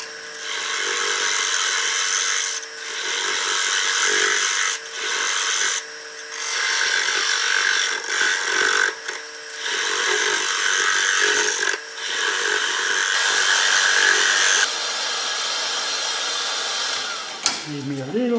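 A 5/8 bowl gouge cuts wood on a lathe with a loud, steady hiss in bursts of several seconds, broken by brief gaps as the tool lifts off, with no talking over it.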